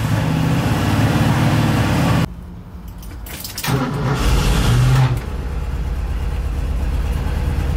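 An electric-converted VW Bus runs with a steady, loud hum and broadband whir, briefly dropping quieter mid-way before the drone resumes, with a short low thump partway through.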